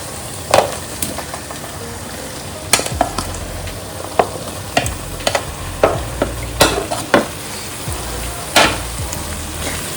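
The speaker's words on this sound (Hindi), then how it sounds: "अब मैं इसमें सूरन, फ्राई किया हुआ सूरन डालूंगी।" Fried suran (yam) pieces are tipped into cooked masala and stirred in a pan with a spoon, giving repeated sharp scraping clinks over a steady low sizzle, close and fairly loud, with no talking.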